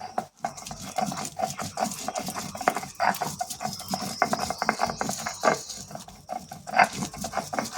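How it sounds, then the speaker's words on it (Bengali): On a traditional grinding stone, yardlong beans are crushed under a stone roller in a steady, close series of rough rubbing and grating strokes that continue evenly without pause and without voices. "চলো আস্তে আস্তে আমি সবগুলো বেটে নিই।"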